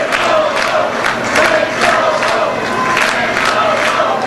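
A wrestling crowd at a CWE show cheers and roars steadily for a wrestler, a loud, dense wall of voices with bursts of shouting throughout.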